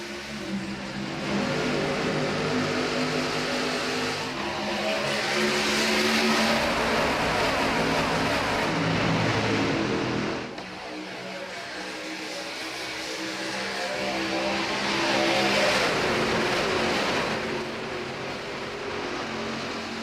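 Race trucks roar around Daytona International Speedway in a racing video game, a loud continuous engine drone with two long swells as the pack passes, no talk.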